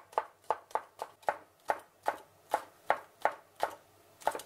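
A knife finely chops spring onions on a cutting board in a steady rhythm, about a dozen crisp, close thuds evenly spaced, with no talking.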